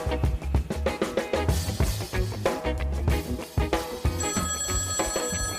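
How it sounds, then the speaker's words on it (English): A telephone bell rings loudly and close in repeated bursts, a podcast's listener feedback phone, its ringing pulsing steadily and then shifting into a sustained tone near the end, with no talking heard. "can you get that? It's the listener feedback phone."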